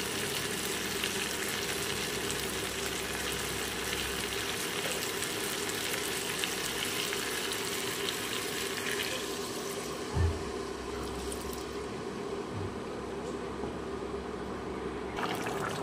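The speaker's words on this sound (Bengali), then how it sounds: "দিয়ে দিচ্ছি ঈষৎ উষ্ণ গরম জল" Lukewarm water is poured into potato and pointed gourd curry frying in a pan. The steady sizzle continues throughout, with a soft splash and a bubbling shift partway through, heard up close.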